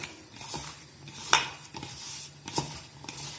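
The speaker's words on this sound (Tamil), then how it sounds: "எல்லாத்தையும் நீங்க மிக்ஸ் பண்ணிக்கோங்க." Pieces of bitter gourd are tossed with spice powder and salt in a bowl, producing soft scraping and a few sharp clinks of utensil on dish, close up and without talk.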